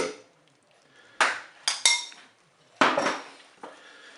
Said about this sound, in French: moi je mélange